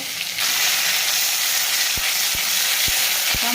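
Coarsely crushed garlic, eight to ten cloves, hits hot oil already holding mustard seeds and cumin for a kadhi, giving a loud, steady sizzle with a few soft knocks of stirring.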